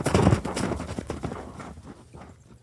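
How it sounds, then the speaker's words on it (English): Horse hooves clip-clop at a steady walking pace into a forest as an audio drama effect, loud and close at first and then gradually fading as the horse moves away. "he tapped his heels and urged his horse into the forest"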